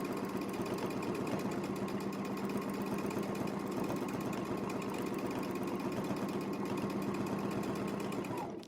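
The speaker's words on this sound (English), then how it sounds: "A little extra stitching around the outside is good." A domestic sewing machine runs steadily through free-motion quilting, stitching clamshell fills with extra stitching around the outside, its fast even needle rhythm close and continuous for the whole stretch.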